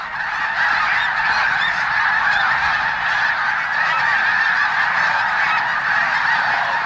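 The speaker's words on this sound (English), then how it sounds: "the calls of the snow geese rise to a deafening roar" Dense flock of snow geese crowding shallow ponds at Bosque del Apache, a loud continuous roar of overlapping honking calls filling the whole stretch, close and unbroken.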